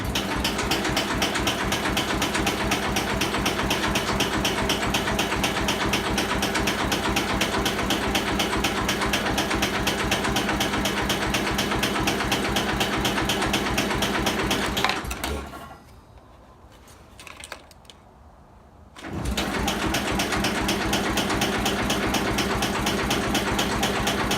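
On a cold start, the pulse fuel pump of a 1983 Dodge Ram ticks in a fast, steady mechanical rhythm, stops for a few seconds of near silence, then resumes just as before.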